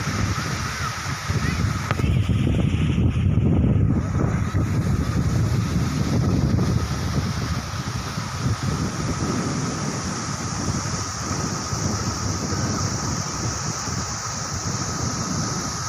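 Continuous rushing roar of water flowing over a full lake spillway, with wind buffeting the microphone, loudest early on and then steady.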